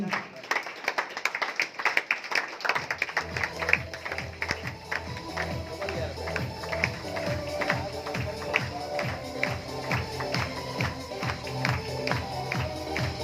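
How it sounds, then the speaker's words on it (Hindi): Steady applause from a crowd welcoming people onto a stage at a celebration event in Shirdi, with rhythmic clapping over music and a voice speaking over it throughout. "जोरदार तालियों से स्वागत होना चाहिए"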